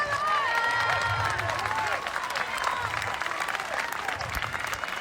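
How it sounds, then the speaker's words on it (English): A crowd applauds steadily, dense sustained clapping filling the space with some cheering voices rising over it. "he began walking forward to the applause of the crowd"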